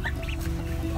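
Several large chickens cluck and murmur together in a homestead pen, close and steady, with faint calls from newly added ducks and a goose nearby.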